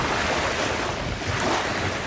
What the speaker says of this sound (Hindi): पानी में इस तरह की वेव्स उठ रही हैं कि जैसे ओशन में उठती हैं